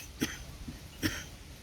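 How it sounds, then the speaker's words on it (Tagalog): An elderly, long-ill man gives two short, harsh coughs close by, roughly a second apart, with a softer throat sound between them. "Ubo na si tatay, oh."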